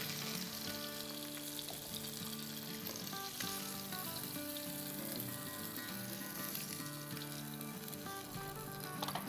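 Fish frying in oil in a pan for machhi bhaat, a constant soft sizzle with some faint stirring, close but quiet, no talking.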